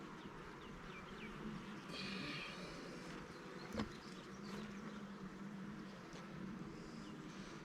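Honey bees hum steadily during a hive inspection of a colony that received donated brood, a continuous low drone with brief brighter swells and one sharp knock partway through, no talking.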